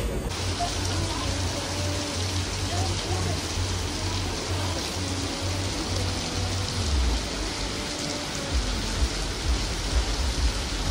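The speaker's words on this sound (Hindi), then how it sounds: "अभी भी बारिश हो रही है" Steady rain falls near a beach in Goa, a dense, even hiss of drops on surfaces lasting throughout, with a low rumble underneath and faint voices in the distance.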